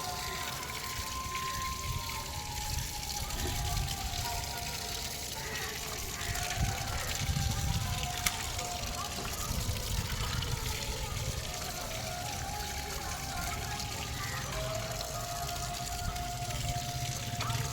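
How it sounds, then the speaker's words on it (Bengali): Fish roe rinsed in water at home: a steady, close gushing and sloshing runs throughout, with faint voices underneath. "মাছের ডিম এখন ধুয়ে রাখবে না কালকে ধোবে?"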